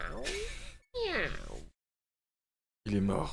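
Two rising, drawn-out cat meows in the Super Mario 3D World video game come close together and loud, then a silence before another burst of sound.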